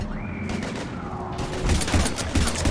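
Gunfire in the Mass Effect 3 video game, a dense fusillade of rapid shots and bursts layered with booms, loud and close, growing heavier in the second half of the short stretch.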